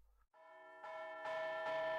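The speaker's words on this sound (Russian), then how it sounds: "Вот и набатный колокол залился лихорадочным звоном" A church alarm bell rings rapidly and insistently, its bright, sustained tones building in loudness with each new strike, close and alone.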